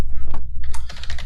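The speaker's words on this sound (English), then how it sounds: "have a hard time typing and talking at the same time" Quick clicking keystrokes on a computer keyboard, typed in irregular bursts during a Minecraft-style session, close and fairly loud over a low background hum.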